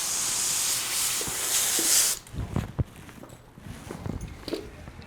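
A steady loud spray hiss of water wetting a horse's lower leg at the pastern, cutting off after about two seconds, followed by soft scattered dripping and shuffling sounds.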